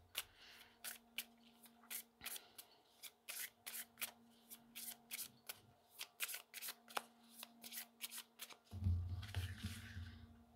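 Matte-finish oracle cards being shuffled by hand, a rapid series of crisp riffling flicks and soft slides repeating close up, ending in a louder rustling burst; no talking.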